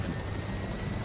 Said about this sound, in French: avec le bruit de l'hélico.